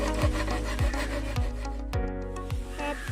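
A length of PVC pipe being sawn, with a steady back-and-forth rasping stroke repeating about every half second, close and loud, with no voices.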